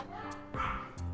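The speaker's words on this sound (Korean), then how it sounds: "개 짖는 소리 좀 안 나게 해라!" A dog lets out a couple of short, sharp barks close by, each one brief and fairly loud.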